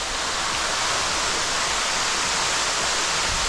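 A waterfall on a Table Mountain hike roars as a loud, steady, unbroken rush of falling water that fills the whole scene, with no voices.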